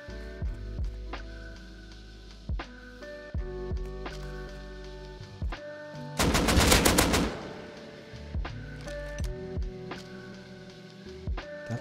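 Rifle fire in the Rust video game: scattered single sharp shots ring out at irregular intervals, broken midway by a loud rapid automatic burst lasting about a second.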